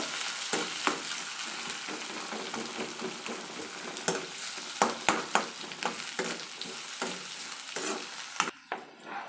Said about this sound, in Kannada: ನೀರುಳ್ಳಿ ಚೆನ್ನಾಗಿ ಫ್ರೈ ಆಗಬೇಕು